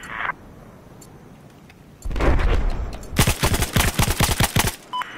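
Machine gun fire in the video game Battlefield 4 during a naval carrier assault: a rumbling burst followed by a rapid, loud rattling run of shots, close.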